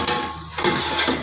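Salt, white and black pepper and garlic-ginger paste fry in oil in a pot for chicken white qorma, giving a steady sizzle broken by two sharp spoon scrapes against the pot, close up with no speech.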